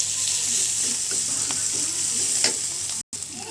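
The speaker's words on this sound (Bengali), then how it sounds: "পেঁয়াজ মরিচটা একটু ভেজে নেব।" Onion and chili frying in the hot oil left from frying potatoes, a steady close sizzle with light stirring scrapes running throughout, briefly cutting out near the end.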